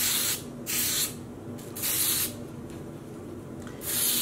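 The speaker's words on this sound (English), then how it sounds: "I did see a blue before I sprayed over that" Wilton's Color Mist food coloring spray hisses onto yarn in four separate bursts, each about half a second long and fairly close, with quieter pauses between them and no talking.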